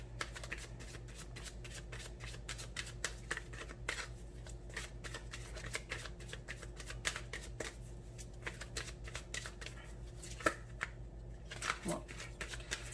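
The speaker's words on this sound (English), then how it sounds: "I'm going to pull out some love oracle cards. This is Romance Angels by Doreen Virtue" Romance Angels oracle cards by Doreen Virtue being shuffled close up, a run of quick, soft, papery riffles and flicks repeating throughout at low level.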